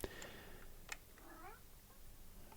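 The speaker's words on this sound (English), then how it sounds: "And that's my cat interfering with my recording." Indoor cat giving a short, faint meow in a quiet room, brief and somewhat distant, with a few soft clicks and taps around it.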